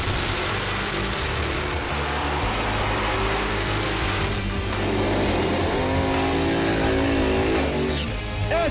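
Mopar drag race cars at a Memphis drag event fire up and idle loudly, a dense, rumbling engine roar that swells and throbs as the revs climb.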